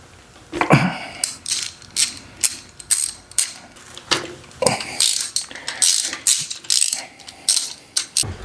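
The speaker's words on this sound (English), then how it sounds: "let's get these spark plugs out" A ratchet wrench clicks in repeated bursts as spark plugs come out of a 1986 Honda Rebel 450 motorcycle engine, with sharp metallic pawl rattles and short pauses between strokes, close and loud.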